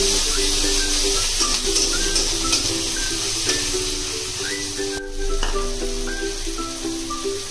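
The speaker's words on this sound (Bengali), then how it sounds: "কাঁচা লঙ্কা দিয়ে ভোট কচু রান্না করছি" Taro (kochu) with green chillies and tengra fish sizzling and frying in a pan, a steady close hiss with light scraping of a stirring spoon throughout, no talking.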